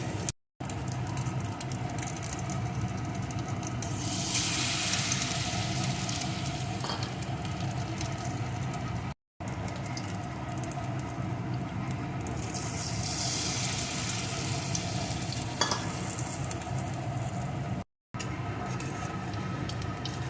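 Duck eggs fry in hot oil with a loud, steady crackling sizzle that fills the whole span, broken by a couple of brief gaps, close up and without talk.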